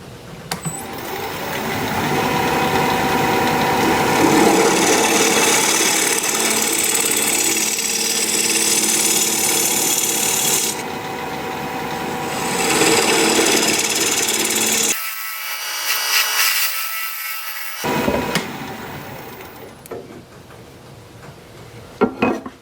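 Wood lathe cutting a recess into a spinning wooden blank, a steady whirring motor hum with rough scraping cuts throughout, loud and close, briefly dropping off mid-way before the tool returns.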